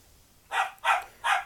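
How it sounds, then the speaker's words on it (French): Three short, loud dog barks in an even rhythm, close by and alone over a quiet room. "vous avez entendu un bruit de chien"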